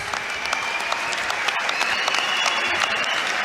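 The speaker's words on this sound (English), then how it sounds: "A nice round of applause out here for both of these fighters." Arena crowd applauding boxers at the end of a twelve-round professional bout in Cardiff, Wales; dense, steady clapping fills the whole stretch at close range, with no talk over it.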